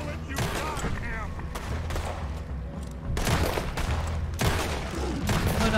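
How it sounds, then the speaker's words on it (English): Dense, continuous gunfire from Red Dead Redemption 2 plays at close range, with bursts of repeated shots forming a loud, sustained fusillade under some background voices. "Put every bullet you got in him."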